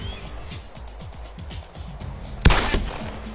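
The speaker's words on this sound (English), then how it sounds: "Distinguished sound from a 1911 Glock, or excuse me, a 9mm Glock." A 9mm Glock pistol fired in DayZ, one sharp loud shot followed by a quick second crack over a low rumbling background of ticking noise.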